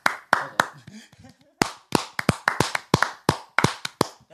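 A few people clap their hands in a loose, uneven rhythm of sharp, close claps, with brief chatter between the first claps.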